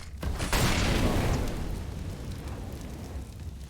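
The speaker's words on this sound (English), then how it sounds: "I'm throwing smoke" A smoke grenade going off in Counter-Strike, a sudden burst followed by a steady, broad hissing rush that fades slowly over a few seconds, fairly quiet and alone.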